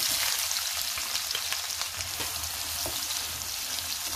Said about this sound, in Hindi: तो काजू को हम निकाल लेते हैं और इसी तेल में हम डाल देंगे प्याज।